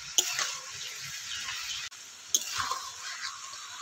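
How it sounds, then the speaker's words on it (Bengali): A spoon working through taro stalk curry in a pan, with a couple of sharp scrapes and soft wet shuffling, close by and fairly quiet. "এবার ভালো করে নাড়াচাড়া করে মিশিয়ে নেব।"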